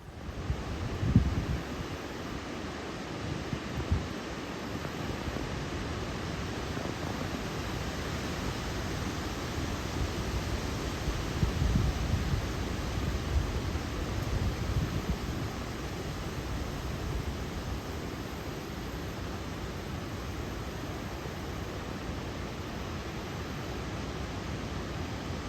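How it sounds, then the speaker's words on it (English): Strong wind roars and buffets the microphone on a blustery day by the water, with waves washing nearby beneath a continuous broadband rush. "As you can tell, it's a pretty windy day."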